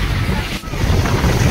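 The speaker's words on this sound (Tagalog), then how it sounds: "Lalaki ng alon no?" Big ocean waves wash and surge around a boat crossing from Capiz toward Boracay, with steady loud broadband water noise and wind buffeting the microphone throughout, briefly dipping for a moment midway.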